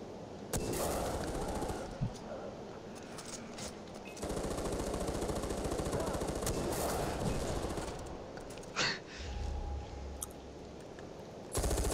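Rapid automatic gunfire sprayed into the sky in Far Cry 4 multiplayer after a yeti hunt in the Valley of the Yetis, sustained bursts filling most of the stretch with short pauses between volleys.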